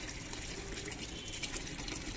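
Water poured steadily over a child's feet during wudu ablution, a continuous close splashing gush with no talk.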